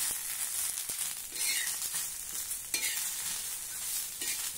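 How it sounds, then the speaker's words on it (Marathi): An onion dry-roasts in a pan without oil over a medium to high gas flame, giving a steady close sizzle with occasional scraping stirs and light knocks against the pan. "हा कांदा आता आपल्याला सुरुवातीला तेल न घालता असाच जरा वेळ भाजायचा आहे"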